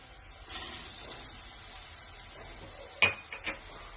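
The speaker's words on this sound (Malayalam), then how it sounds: "കുറച്ച് വെളുത്തുള്ളി ഇഞ്ചി ചതക്കി വെച്ചത് ഇട്ട് കൊടുക്കാം." Crushed garlic and ginger hitting browned onions in a hot pan, giving a low steady sizzle with a sharper burst of crackle and stirring clatter near the end.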